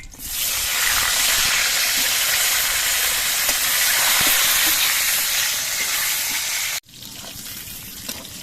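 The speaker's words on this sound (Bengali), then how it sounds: "বাকি পটলগুলো ভেজে নিচ্ছি" Pointed gourd (potol) fries in hot oil in a kadai with a loud, dense, hissing sizzle that runs steadily, cuts off abruptly, then resumes somewhat quieter.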